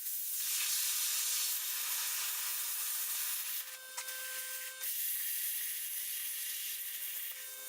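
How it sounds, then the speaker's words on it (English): A Cornwell plasma cutter slicing through welds on a trailer deck, producing a steady, loud hissing roar with a thin whine, briefly dipping and flaring before resuming its constant rush. "why would I do that when I have a Cornwell plasma cutter?"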